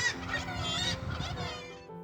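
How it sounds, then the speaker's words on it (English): Seabirds on the Caithness coast near the Pentland Firth, a few harsh, honking cries overlapping at close range, fairly faint, for about two seconds. "This is a place where seabirds cry"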